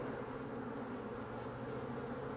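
Bees in an open beehive, a dense, steady droning hum of many insects heard close, continuous and unbroken with no voices.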